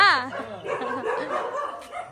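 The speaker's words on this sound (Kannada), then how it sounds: "ಚಂಪಪ್ಪ ನಿನ್ಗೆಲ್ಲ ಬೊಗ್ಳುತ್ತವ್ರೆ." A dog barks and whimpers close by, high yelping calls mixed with a person talking over it.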